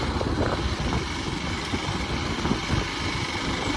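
Hero XPulse 199.6 cc single-cylinder motorcycle idling nearby, a steady low engine rumble with a slight uneven pulse throughout.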